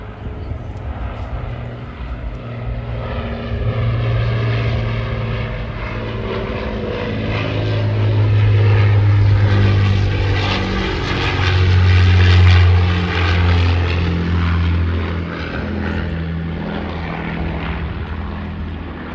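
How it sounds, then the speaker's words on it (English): A propeller aircraft passes overhead, its droning engine building steadily to a loud peak and then slowly easing off over nearly twenty seconds, at an outdoor koi show. "I'm going to get a flyby."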